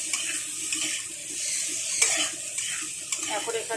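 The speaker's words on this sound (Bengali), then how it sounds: "এবার আমি সব সবজিগুলোকে মশলার সাথে ভালো করে মিক্স করে নেব।" Vegetables for sukto being stirred together with raw spice paste in a pan, a wet sizzle with scraping spoon strokes and a sharp clink midway, close and continuous without speech.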